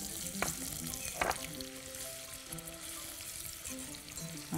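Onions frying in a pan give a soft, steady sizzle with a couple of brief clattering stirs near the start and no talking.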